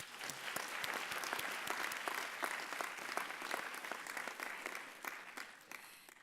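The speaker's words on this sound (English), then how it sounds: "Please give yourself a round of applause." Graduates at a university congregation ceremony in a large hall applaud together, a sustained patter of many hands with sharp individual claps standing out, moderately distant and fading slightly toward the end.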